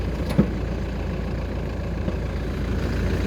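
A Toyota Land Cruiser Prado 150 engine idles steadily with the hood open, a smooth low rumble that holds even throughout, apart from one brief tick near the start.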